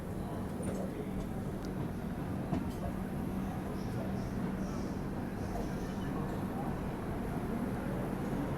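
A Bilaspur–New Delhi Rajdhani Express running through Mathura Junction while overtaking another express, heard from inside the train as a steady low rumble with faint rattles and clanks.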